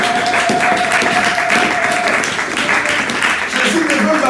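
A church congregation at a Sunday service applauds and cheers, a dense sustained clapping that fills the whole stretch at steady loudness, with voices mixed in.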